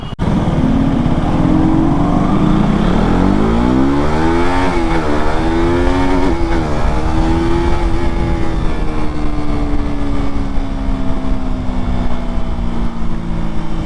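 A KTM RC 200 BS4 motorcycle engine revs loudly and close while riding, its pitch climbing through the gears, then holding a steady high drone over continuous wind rush.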